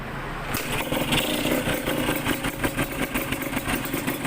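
A Yamaha DT125 motorcycle, freshly repaired after failing to start, fires up half a second in and settles into a steady, loud two-stroke idle that runs continuously to the end.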